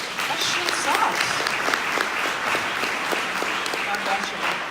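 An audience at a recovery talk claps warmly and steadily for cancer survivors, a continuous wash of hand claps with a speaker talking over it.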